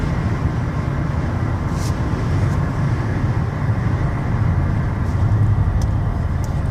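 A 2016 Dodge Caravan SE wheelchair mobility van with a new conversion cruises down the road at 65 mph, giving a steady, even rumble of tire and road noise that holds at one level throughout, with no talking.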